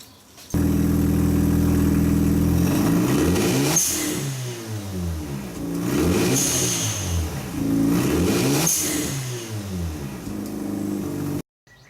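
A Mazda RX-7 FD rotary engine revving with an HKS Super Sequential blow-off valve, three strong rev-ups each ending in a sharp venting whoosh as the throttle closes, loud and close with no talk.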